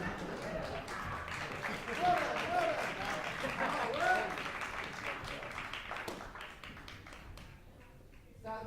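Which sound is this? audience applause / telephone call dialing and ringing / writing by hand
audience applause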